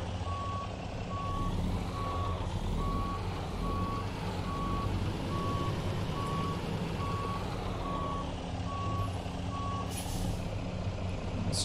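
Truck reverse alarm in American Truck Simulator, a steady train of evenly spaced beeps over constant diesel idle rumble, with a brief air-brake hiss near the end.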